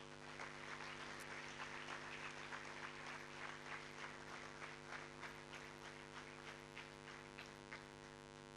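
A seminar audience claps to welcome an Air Commodore at an armed forces orientation event. Steady, faint applause runs throughout over a loud, constant mains hum.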